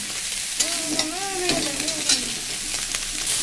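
Small amudi fish fry in a little oil with a steady, close crackling sizzle, punctuated by stirring and a few sharp pops.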